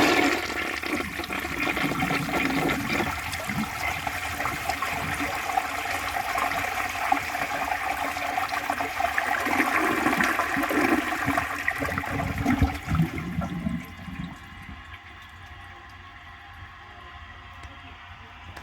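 A 1964 Gerber Mt Vernon toilet flushes with a steady rushing gush of water that fades into a quieter trickling refill near the end.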